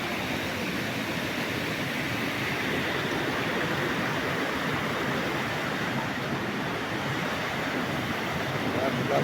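Water rushes steadily at the Chernigovka waterfalls in Abkhazia, a dense, constant roar of falling and flowing river water that fills the whole scene and sits close and loud from start to finish.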